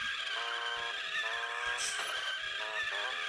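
A truck drifting with the handbrake pulled produces a steady, loud tire squeal and skid that runs throughout over continuous engine noise, with the pitch wavering as it slides.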